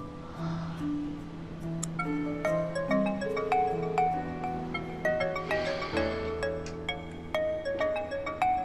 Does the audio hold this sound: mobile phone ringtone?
yes